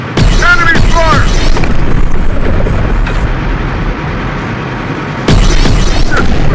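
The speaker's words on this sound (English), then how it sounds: "Enemy fire." Enemy gunfire and explosions in the Terminator Dark Fate Defiance video game, a loud, dense wall of booming blasts and rumble that dips briefly midway, with voices talking over the battle.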